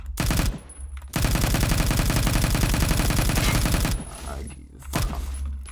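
Sustained automatic LMG fire in the Roblox shooter Phantom Forces, a loud, rapid, continuous burst lasting several seconds, followed by a few shorter shots, with a voice talking over it.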